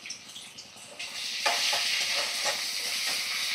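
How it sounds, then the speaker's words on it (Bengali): Spices sizzle in a hot pan with Kashmiri chilli powder, turmeric, salt and ginger-garlic paste, a steady close hiss that swells louder partway through, with scraping stir sounds. "সব ভালো করে মশলা আমি কষিয়ে নেব।"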